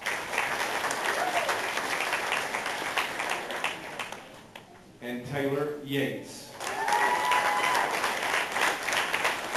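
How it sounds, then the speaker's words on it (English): Applause for graduating seniors at a senior scholars recognition event, a dense crowd clapping that breaks briefly while a speaker reads a name, then swells again. "another round of applause for our seniors."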